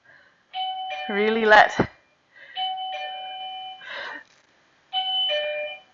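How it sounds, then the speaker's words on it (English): A home doorbell chimes during a yoga class, its steady two-tone ding-dong sounding near and clear several times in a row between stretches of a woman's calm spoken instructions. "doorbell ring"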